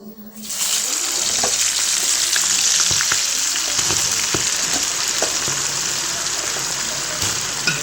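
Jackfruit chips dropped into hot oil, a loud, dense, continuous hiss of bubbling oil that swells in right after the start and holds steady, close up, with no one speaking.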